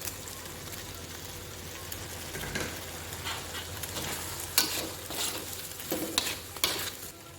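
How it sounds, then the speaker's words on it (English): Leeks simmering in a pot of chicken curry soup give a soft, continuous bubbling and light sizzle, with occasional faint clinks and stirring sounds rising briefly above the steady low hiss. "Now we just let it simmer for about 1 to 2 minutes until the leeks are slightly softened"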